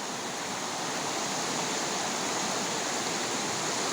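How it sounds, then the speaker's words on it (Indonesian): A river in Aceh Tamiang rushing swiftly over large stones, a dense, constant roar of water that fills the whole clip at steady loudness, with no voices. "Batu-batu besar, airnya juga deras"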